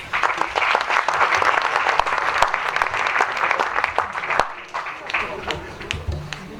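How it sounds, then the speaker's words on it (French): Applause from an audience at a reception honouring young athletes in Saint-Sever, steady clapping with sharp individual claps over a murmur of crowd voices, fading slightly toward the end. "Je crois qu'on peut encore applaudir"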